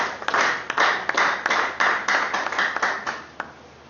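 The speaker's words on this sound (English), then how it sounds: "Please, let's give him a well-coordinated round of JCI clap." Coordinated group clapping at a JCI business meeting, a series of sharp, rhythmic claps in unison with short gaps, fading out at the end.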